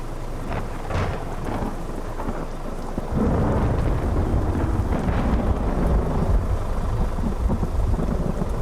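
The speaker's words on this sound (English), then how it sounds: "you think there's a storm brewing. It's not brewing, it's here." Thunderstorm with rain in a trucking video game, steady hiss of heavy rain under a low rolling rumble of thunder that grows louder partway through, with no talking.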